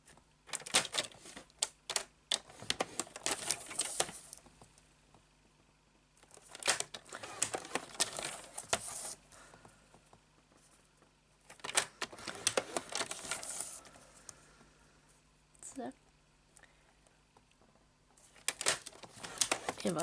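A paper cutter (massicot) slices through cardboard for advent calendar boxes in repeated crisp, crunchy bursts with quiet pauses between. The cuts are close and fairly soft overall.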